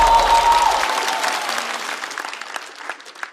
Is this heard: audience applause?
yes